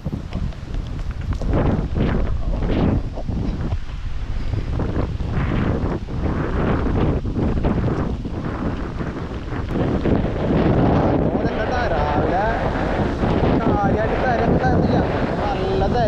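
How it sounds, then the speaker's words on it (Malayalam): Strong sea wind buffets the microphone as heavy waves crash and surge on a rainy day, a loud, continuous roar that swells in bursts near the shore. "തിര മാത്രല്ല, ഭയങ്കര കാറ്റ്. എന്താ കാറ്റ്, തിര അടിച്ചു കേറട്ടാ."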